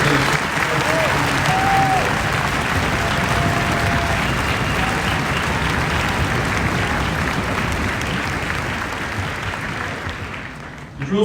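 A large crowd claps steadily and loudly for several seconds at a military infantry ceremony, the applause tapering slightly toward the end.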